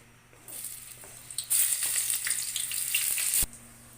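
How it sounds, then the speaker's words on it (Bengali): Oil crackles and sizzles loudly in a pan ahead of a cabbage stir-fry for a home lunch, rising sharply after a quiet start, running steadily for about two seconds, then cutting off abruptly. "এই তো আপনাদের ভাই তেল দিয়ে দিচ্ছে"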